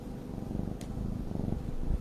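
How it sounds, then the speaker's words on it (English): A soft, steady cat purr rumbles low and continuous, close up, with gentle rhythmic pulsing and no talking. "Can you hear him purring?"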